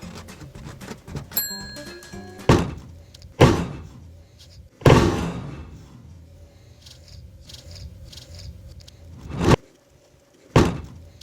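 Car door on a $500 turbo car with bad hinges, shut in several loud, sharp thunks spaced a few seconds apart, with quieter rattling and handling noise between the slams and no talk.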